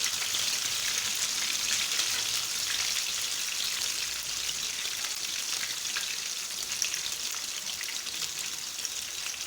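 Chapli kebab frying in a pan over normal heat, a steady bright crackling sizzle with dense spattering pops that continues unbroken throughout.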